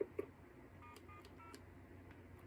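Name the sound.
telephone hookflash and DTMF tones cancelling call waiting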